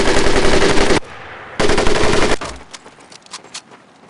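Loud, close bursts of automatic gunfire in the Medal of Honor bootcamp, two dense rattling volleys separated by a brief pause and followed by scattered fainter shots fading out.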